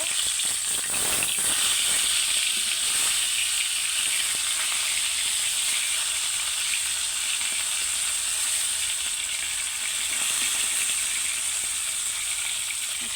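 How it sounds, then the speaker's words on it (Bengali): Pieces of kalibaus fish fry in a pan with a steady, close hissing sizzle that runs unbroken throughout, a few sharper crackles and scraping clicks near the start, and no speech over it. "সবগুলো মাছ আমি উঠিয়ে নিলাম আর একটু ভেজে নামিয়ে ফেলবো"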